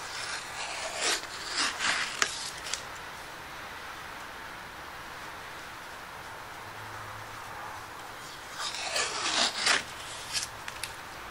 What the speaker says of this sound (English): I'll put a pretty heavy shaving on my block plane just to get the work done.